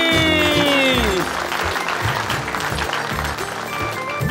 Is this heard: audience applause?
yes